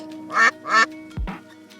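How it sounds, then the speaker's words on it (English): A duck quacks three times in quick succession, two nasal quacks then a shorter third, loud and close with no talking. "duck,"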